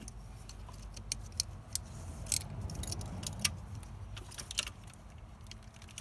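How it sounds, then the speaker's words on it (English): A metal wrench clinks and scrapes against a spring clip while prying at the ignition coil of a 2003 Ford Ranger 2.3L, light irregular metallic taps over a low background rumble. "Let's see if I can use my wrench."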